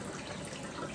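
Milkfish being rinsed in water while making sardines, a brief, steady splashing and running-water wash heard up close with no talk.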